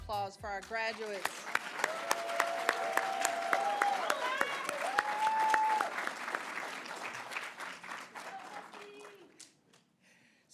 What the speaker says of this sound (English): let's have another round of applause for our graduates